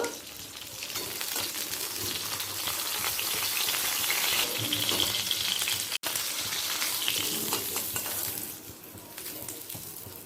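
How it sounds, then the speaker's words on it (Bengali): Rohu fish pieces frying in hot oil, a steady loud sizzle that crackles continuously for about ten seconds, with a brief break near the middle, no voices. "মাছের 2 পিটি ভাজা হয়ে গেছে"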